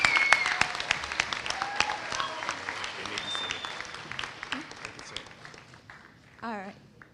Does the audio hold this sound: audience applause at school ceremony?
yes